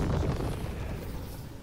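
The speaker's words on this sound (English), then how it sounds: "I cast Fireball!" A fireball spell explodes in a video game, a loud rumbling boom with dense low-end roar that is strongest at the start and then slowly decays.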